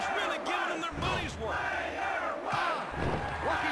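Arena crowd in the 1998 wrestling video game WWF War Zone, a continuous roar of cheering and yelling with rising whoops, steady and loud throughout.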